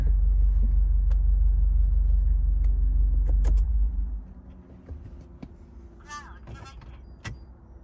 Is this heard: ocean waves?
no